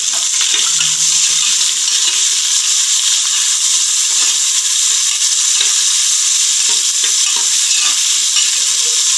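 Onions frying in a pan with cashews give a steady, dense hiss of oil sizzling close by, continuous and loud without breaks, with faint soft stirring beneath.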